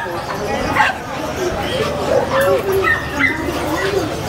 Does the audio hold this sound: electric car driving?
no